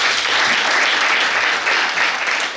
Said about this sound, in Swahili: Lakini tupigie serikali yetu nzuri makofi